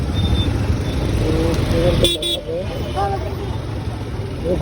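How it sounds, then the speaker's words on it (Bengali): Heavy traffic jam in Mohammadpur, Dhaka: a steady roar of idling and creeping engines with a short car horn toot and a brief motorcycle passing, loud and continuous. "মোহাম্মদপুরে আসলে কি ধরনের জ্যাম ফেস করতে হয়"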